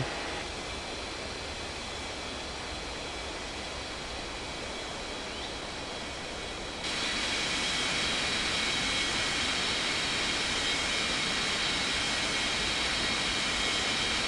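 A jet airliner's engines roar in a steady, broad rush during takeoff on runway 21 right, with the noise swelling louder partway through.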